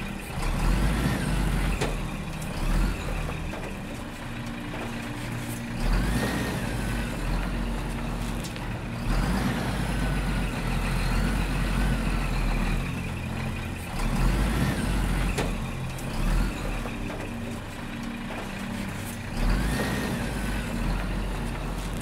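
A large cargo truck rumbles slowly across a makeshift bridge of wooden planks on a muddy rainforest road, a continuous heavy engine drone with creaks and knocks, loud and near, no voices.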